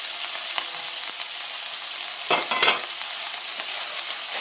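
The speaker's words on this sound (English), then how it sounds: "now onion go in." Onion hits a hot wok during a Cantonese whelk, garlic and scallion stir-fry, giving a steady crackling sizzle that surges into a brief loud burst of frying midway, with no talk.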